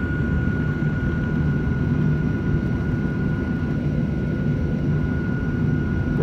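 An American Airlines Boeing 737-823 jet takes off from Phoenix, its engines a steady, heavy low roar with a faint high whine, heard continuously and up close with no talking.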